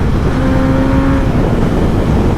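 A Kawasaki H2 superbike engine roars loud and steady as the bike rides through a tunnel, the sound filling the enclosed space with a brief tonal whine early on.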